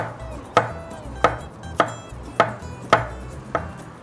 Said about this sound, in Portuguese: picar aqui o alho, ó, isso aqui tá até machucadinho, esse alho aqui vai fora